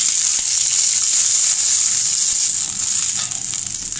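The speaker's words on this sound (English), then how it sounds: "mustard and curry leaves added to heated mustard oil" Mustard seeds and curry leaves sizzle steadily and loudly in heated mustard oil, a bright, continuous frying hiss that eases slightly toward the end.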